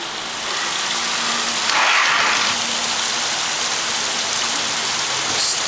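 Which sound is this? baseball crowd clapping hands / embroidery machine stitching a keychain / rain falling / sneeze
rain falling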